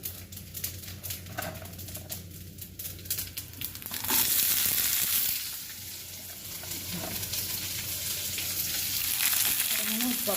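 Greens for sambar fry in a pan with a steady, close sizzle that swells louder partway through and keeps crackling to the end, with no voices.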